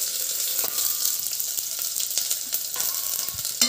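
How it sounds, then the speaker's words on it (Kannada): Onion and green chili frying in oil with mustard seeds in a pan, a steady close sizzle running through the whole clip with a few soft stirring clicks and no talking. "ಇಷ್ಟು ಗೋಲ್ಡನ್ ಕಲರ್ ಬರೋವರೆಗೂ ಫ್ರೈ ಮಾಡ್ಕೊಳ್ಳಿ"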